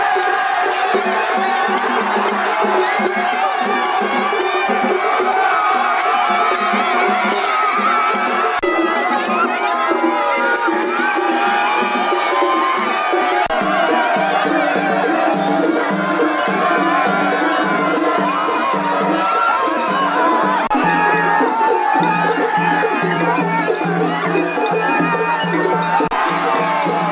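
Dense, sustained crowd cheering and shouting during a cheering battle at the Kawagoe Festival, with rhythmic chanting and festival percussion churning steadily throughout.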